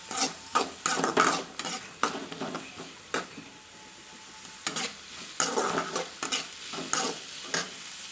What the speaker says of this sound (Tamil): இதை போட்டு நல்லா வெங்காயத்தை நல்லா வதக்கிக்கலாம்.